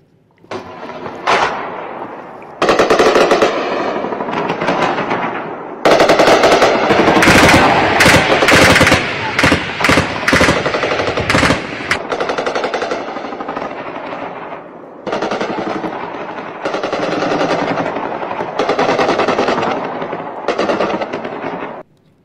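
Machine gun fire during a border clash between Pakistani and Afghan forces: loud, close bursts of automatic fire rattle in long runs separated by short pauses, with heavy dense volleys through the middle.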